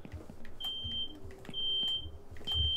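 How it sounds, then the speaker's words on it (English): A smoke or fire alarm beeps in repeated long, high electronic tones spaced about a second apart, moderately loud over low rumbling background noise. "Can we get somebody with a fire alarm sound?"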